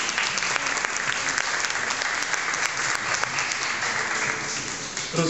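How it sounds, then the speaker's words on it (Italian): A conference audience at a book talk applauds an introduced author with dense, steady clapping that holds at an even level for several seconds before easing slightly at the end. "Un applauso."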